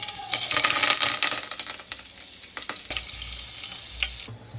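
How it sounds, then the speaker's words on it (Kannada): Mustard seeds crackle and splutter in hot oil with dense, continuous sizzling and sharp pops, loud and close, with curry leaves going into the pan. "ಎಣ್ಣೆ ಕಾದಾದ ನಂತರ ಸ್ವಲ್ಪ ಸಾಸಿವೆ ಹಾಕಬೇಕು. ಸಾಸಿವೆ ಚಟಪಟ ಅಂದಮೇಲೆ"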